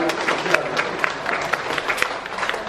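Wedding guests clap together in a steady burst of applause that fills the hall, dense and continuous with scattered sharper claps.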